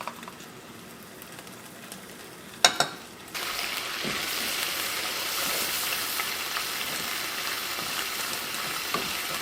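Flour cooking in oil in a pan for a bechamel gives a steady, soft sizzle and crackle after two sharp clatters near the start, continuing evenly without speech.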